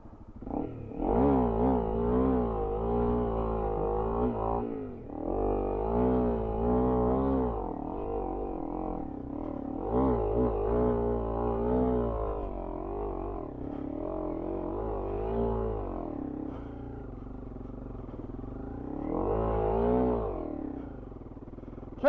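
A Honda CRF-Rally motorcycle runs in second gear with plenty of throttle, its engine droning and rising and falling steadily through the clip, with occasional dips where the clutch is dabbed.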